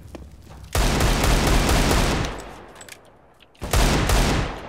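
SMG fire in CS:GO crackles in two long, dense bursts, loud and close, separated by a short lull with a fading tail.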